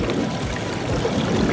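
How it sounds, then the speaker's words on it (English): Steady rushing and splashing of a waterfall fills the air at close range, a constant broadband wash of falling water with a trickling, gurgling texture and no voices. "And there's the waterfall"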